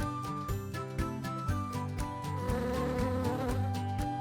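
Bees buzz in close, rhythmic pulses, a layered insect drone that beats roughly twice a second and grows a little busier toward the end, moderately quiet with no voices.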